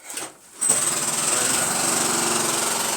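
A jackhammer working rock in an underground mine, starting after a brief quiet gap and then hammering steadily and loudly with a continuous rattling drone, close by and with no talk.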